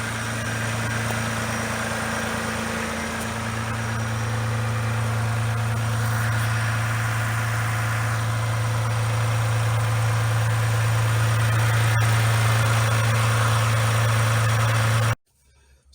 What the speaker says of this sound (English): I love the sound of a cold start on this EcoDiesel